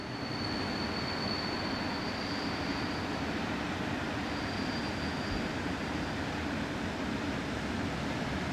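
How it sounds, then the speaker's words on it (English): Class AE 66 electric locomotive hauling a freight train through a station, a loud continuous rumbling roar of wheels and wagons with a faint high whine drifting in and out, steady and close throughout. "The line is also a hot spot for Class AE 66 electrics, which work most of the freight trains seen through the station."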